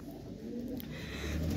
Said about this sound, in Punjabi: ਇੱਥੇ ਕਬੂਤਰ ਫਿਰਦਾ ਵਾ